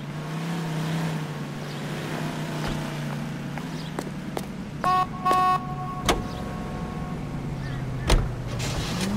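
A car driving in the video game L.A. Noire, a steady low engine hum with occasional knocks and clicks, moderately loud under faint background sounds.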